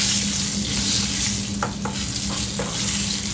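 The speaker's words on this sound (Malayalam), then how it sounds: "ഇതിലോട്ട് കടുകും ഉലുവയും മറ്റൽമുളകും വേപ്പിലയും ഒക്കെ നല്ല ലാവിഷായിട്ട് ചേർക്കണം കേട്ടോ" Mustard seeds, fenugreek, dried red chillies and curry leaves frying in hot oil for a tempering, a steady loud sizzle with a few crackles and pops and some stirring, no talk.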